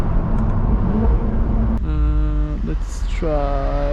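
A 2017 Jaguar F-Type R AWD with 550 hp drives along, its engine a low steady rumble that twice climbs into loud, rising revs with clear harmonic sweeps, close and dominant.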